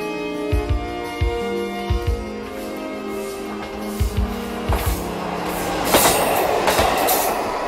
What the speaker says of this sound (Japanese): 知床斜里を過ぎるとオホーツク海に沿って列車は走ります